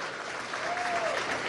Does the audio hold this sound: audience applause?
yes